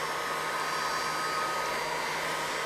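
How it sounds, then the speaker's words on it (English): An old hot air gun blows steadily to melt wax into outdoor clothing fabric, a constant close, loud whooshing hiss that holds unbroken throughout with no talk. "just the old school hot air gun, and just go over it, and you should be able to see that's starting to melt"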